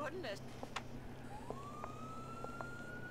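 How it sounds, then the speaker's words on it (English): A police car siren in a video game rises into a steady wailing tone partway through, heard over a busy background of game noise. "Oh yeah, guys, I also got another siren."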